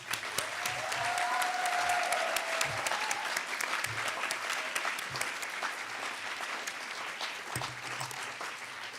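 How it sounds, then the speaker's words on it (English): Sustained audience applause fills a hall at a youth work excellence awards ceremony in Wales, steady and dense throughout, with a faint tonal whine drifting through early on. "So if you could give yourself and the industry one last big round of applause."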